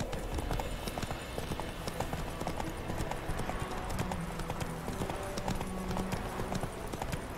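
Horse hooves trotting in The Witcher 3 video game, a steady clip-clop rhythm of hoofbeats continuing throughout at a close, even level over a dense ambient game soundscape.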